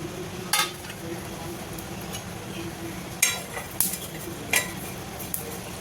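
Spices roasting in a pan on a stove: a soft continuous sizzle under several sharp metallic clinks of a spoon stirring against the pan, spaced irregularly.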